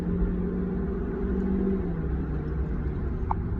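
A 2016 Chevy Cruze with a turbo engine pulling under acceleration, heard from inside the car as a steady droning engine note with a rising tone and road rumble beneath it.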